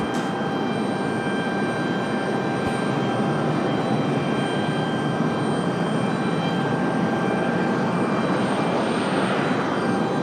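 A CRJ regional jet departs from Raleigh Durham airport with a loud, steady engine roar and a faint whine on top, continuous throughout without voices.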